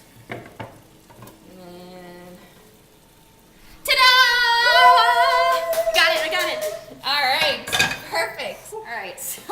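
Spanish omelette sizzling and frying in a pan, with clattering cookware as it is flipped over, followed by loud bursts of sizzle and scraping up close; a voice speaks briefly beforehand.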